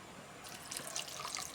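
A glass of mineral water poured onto sautéed ground beef in a pan, a brief bright splash and sizzle of liquid hitting hot meat, close and moderately quiet.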